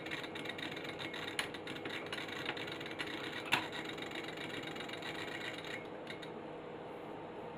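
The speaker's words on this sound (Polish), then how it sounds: "Silnik włączony." A low, steady mechanical hum of a small Unitra ZK140T reel-to-reel tape deck motor running, with faint ticking and one sharp click partway through.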